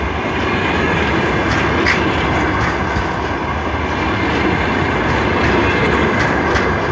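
ChS-175 electric locomotive hauling the Kharkiv–Kherson passenger train along the rails, a loud, close, continuous rumble with rhythmic clickety-clack of wheels over rail joints and faint occasional wheel squeal.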